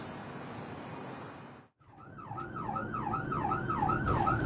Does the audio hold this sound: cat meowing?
no